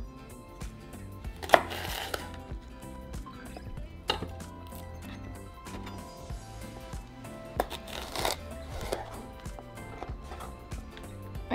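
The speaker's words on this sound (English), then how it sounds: "for our chiles serranos, we're going to remove the stem and cut them in half" A knife cuts tomatillos and serrano chiles in half on a cutting board, making a sparse series of quiet, crisp chops and board knocks at irregular intervals, with soft handling noises in between.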